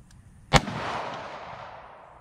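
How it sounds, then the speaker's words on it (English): A single loud, close pistol shot cracks out during gun retention training, its sharp report trailing off into a lingering reverberant tail. "tap the bottom of the magazine, rack the slide,"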